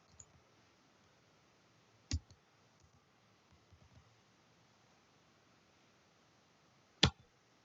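Two sharp, isolated key clicks on a computer keyboard, about five seconds apart, while a command is entered on networking equipment; faint and close, with quiet background hiss between them.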